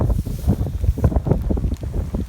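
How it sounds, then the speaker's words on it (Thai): Strong wind gusts across open rice fields near Korat, Thailand, in cold weather, heavy, buffeting rumble of wind hitting the microphone, loud and steady with no voices. "ลมแรงครับ"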